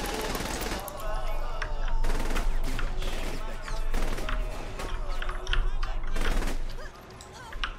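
Sustained gunfire in Saints Row: The Third Remastered, with a sniper firing from above: dense bursts of rapid shots and loud cracks across the whole stretch, mixed with game noise while a player talks over it.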